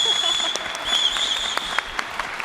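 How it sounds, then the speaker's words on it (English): An audience at a conference panel applauding steadily, a dense patter of clapping with a few sharper claps standing out, no one speaking over it. "so big round of applause for Aimee first."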